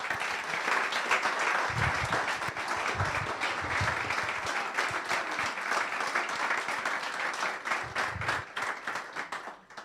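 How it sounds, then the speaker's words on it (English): An audience at a Globant talk in Buenos Aires applauds after the presentation, a dense, loud, sustained clapping that carries on for several seconds with a few louder close claps. "Big applause."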